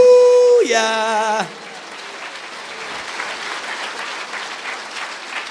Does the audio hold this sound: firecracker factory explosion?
no